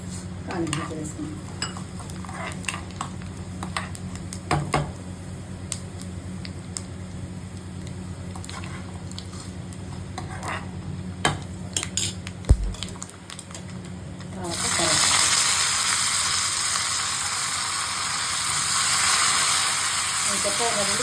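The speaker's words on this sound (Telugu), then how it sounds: "తాలింపు వేసుకుంటాం." Hot oil tempering with urad dal and curry leaves sizzles in a pan for bottle gourd and coconut chutney, a steady low crackle with faint clinks, swelling into a loud bright hiss near the end.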